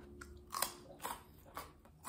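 Raw carrot crunched while eating alongside steak at a home barbecue, three or four crisp, close bites and chews in an irregular rhythm, with no talking.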